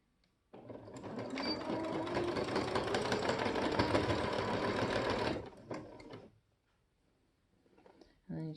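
A sewing machine runs steadily while stitching T-shirt fabric for a tank top, its rapid mechanical whir loud and continuous for about five seconds before slowing and stopping, with quiet handling noise afterward.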